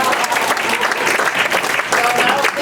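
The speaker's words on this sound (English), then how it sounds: "I guess that's spontaneous applause because they weren't asked to do it." Spontaneous applause from a standing audience at a world premiere, dense and sustained clapping filling the room at steady loudness throughout, with no break.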